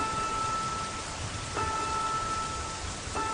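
Rain falls steadily in a constant broadband hiss, loud and even throughout, with faint tonal hums in the background and no voices.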